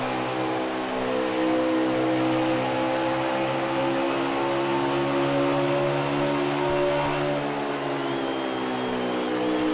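The engine of the number 98 race car at Dover, heard onboard, holds a loud, continuous harmonic roar whose pitch sags and climbs slightly through the lap.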